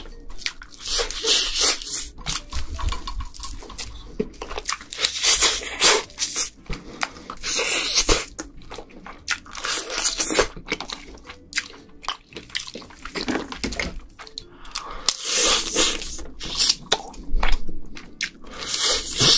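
Crab legs, snow crab and red king crab, bitten and chewed up close in loud, wet crunches and cracks, repeated steadily with smacking and slurping between bites and no talk.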